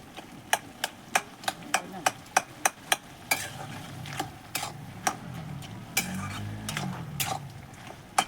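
Food stirred in a pot: a run of sharp, evenly spaced utensil taps against the metal, then looser scraping and clinking over a low background sizzle.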